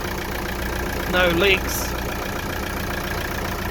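The inboard engine of a Mainship Pilot 30 II trawler idles with a steady, low, even rumble close by, while someone speaks briefly over it.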